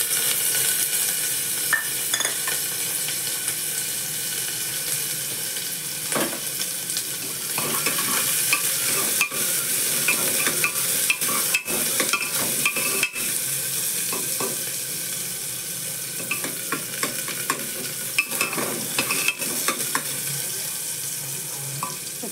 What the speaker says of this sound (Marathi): आता कांदा आपला 2 मिनिटात भाजेल।